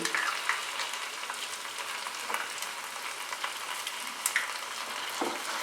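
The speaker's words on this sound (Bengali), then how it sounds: "ভালো করে মিক্স করে নেব। হাই ফ্লেমে কিন্তু আমি রান্নাটা করছি।" Egg Manchurian sauce with red chilli sauce, dark soy sauce and tomato ketchup stir-fried on high flame, giving a steady, bright sizzle with occasional soft stirring scrapes throughout.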